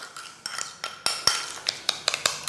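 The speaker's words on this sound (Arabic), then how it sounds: "كنخلطوا المكونات ديالنا فوالا" A spoon clinks and scrapes against a bowl in quick, uneven strokes while sugar scrub ingredients are stirred together, close and fairly light.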